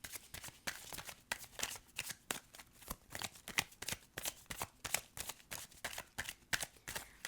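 Tarot cards are shuffled by hand in a rapid run of crisp riffling bursts, close and fairly soft, with no voices.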